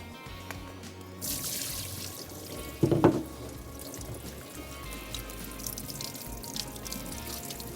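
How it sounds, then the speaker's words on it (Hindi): Soaked lentils being rinsed in water, with a short burst of splashing and pouring near the middle over a quiet background of faint running water. "और जिस पानी में सोक किया था इसको एक दफ़ा फेंकेंगे, फिर दोबारा इसको वॉश करेंगे।"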